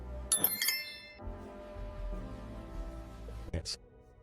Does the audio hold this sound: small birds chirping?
no